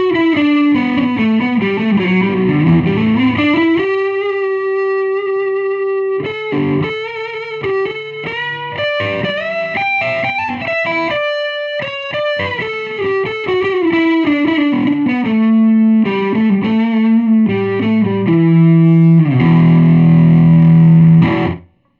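An electric guitar with added gain plays a riff through a 1979 Sunn 128G 12-inch speaker, sustained distorted chords and single notes, loud and continuous, with no talk.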